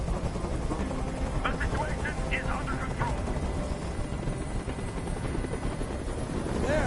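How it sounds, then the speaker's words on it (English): A helicopter's steady thudding drone fills the scene, loud and continuous, while someone speaks briefly over it. "I can't stand that noise anymore. Tell that helicopter to get out of here."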